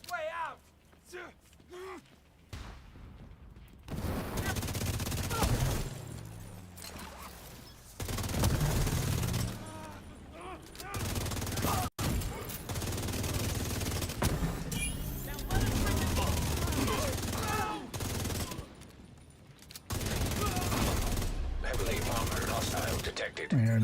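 Sustained bursts of automatic gunfire from the video game The Division come in long stretches broken by short pauses, loud and dense, with people talking over the shooting.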